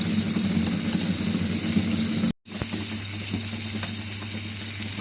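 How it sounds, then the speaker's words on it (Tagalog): Smoked galunggong fish (tinapa) taken from the freezer frying in a pan, a steady broadband hiss of oil that runs continuously, broken once by a brief moment of silence before the sizzle resumes. "Ako ay nagpreprito ng tinapa."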